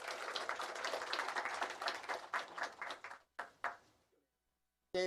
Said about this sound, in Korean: 크게 한 박수로 한번